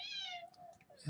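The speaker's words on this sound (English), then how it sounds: "that's my cat." Housecat giving a single short meow close by, followed by a brief spoken word from a person.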